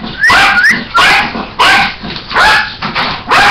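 A dog barks close and loud, giving about five sharp, separate barks with short gaps of whimpering and yipping between them.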